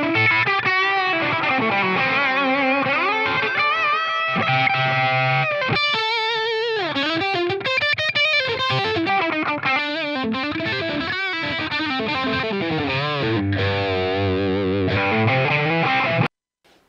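Electric guitar played through a Line 6 Helix effects processor in a studio, running through a series of distorted and chorus-tinged tones with sustained chords and melodic runs, loud and continuous before cutting off at the end.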